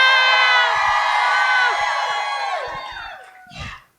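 A live podcast audience screams and cheers together in one loud, sustained roar that holds for about three seconds, fades, then swells into a short final burst of shouting.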